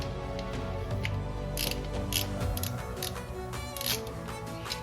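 A hand ratchet clicking rapidly as it turns the starter bolts on a 2021 Ford Escape, a close mechanical ticking with several short bursts of louder clicks in a garage, with no talking.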